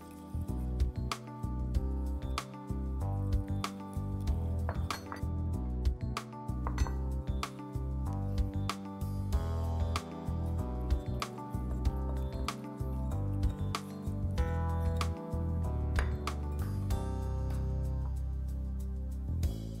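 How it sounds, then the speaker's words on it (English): Flour is worked into yeast dough for chimney cakes in a bowl, giving rhythmic repeated clinks and knocks of a utensil against the bowl with soft squishy mixing between strikes, close and steady without talk. "add in the all-purpose flour and mix that in for a few minutes"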